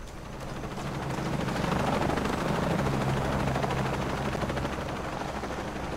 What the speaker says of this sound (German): Auf jeden Fall ist da ein Hubschrauber.